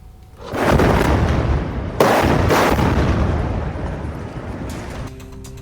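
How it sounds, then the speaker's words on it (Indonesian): Missiles strike buildings in an airstrike on a city neighbourhood, setting off large explosions: a heavy roaring blast that swells, a second sharp boom, then a long rumbling decay. "Rudal menghantam bangunan dan juga memicu ledakan besar."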